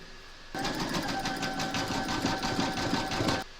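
A sewing machine satin-stitches around the rind of a watermelon coaster, a steady rapid mechanical chatter running close and alone for about three seconds.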